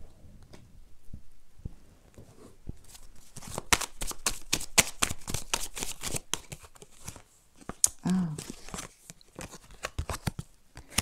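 Tarot cards being laid out and handled on a table, a series of soft slaps, flicks and shuffling rustles in irregular bursts, close and fairly quiet.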